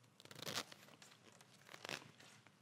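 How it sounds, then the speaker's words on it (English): A zipper being opened on a sewn fabric Klein bottle, two short, faint rasping zips close to the microphone in a quiet room. "So I'm opening the Klein bottle"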